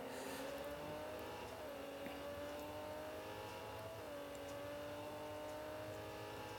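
A Lamborghini Centenario accelerates hard in Real Racing 3, its engine note climbing steadily with a brief dip around a gear change, loud and continuous with no talk over it.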